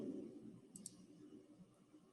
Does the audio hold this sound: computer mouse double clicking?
yes